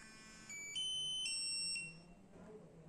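A skID reader emits three short, high electronic beeps in quick succession after a profile switch, faint and close in a quiet room.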